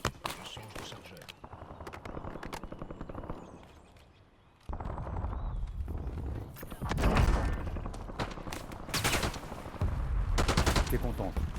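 Gunfire in a battle royale video game, crackling in rapid bursts and scattered shots that swell loud after a brief lull, with heavy game ambience and what may be voices underneath.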